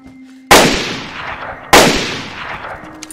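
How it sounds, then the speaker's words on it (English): Two loud gunshots from the DayZ video game ring out about a second apart, each a sharp crack followed by a long fading echo. "I'm shooting at them."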